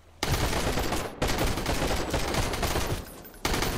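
Dense, sustained automatic gunfire in the game Sunkenland, with rapid overlapping shots, loud and continuous apart from a brief gap.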